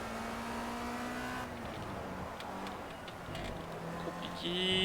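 Race car engine in the video game Project CARS, driven on a track with a chicane, holds a steady loud drone. The pitch drops as the car shifts down, then climbs again as it accelerates out.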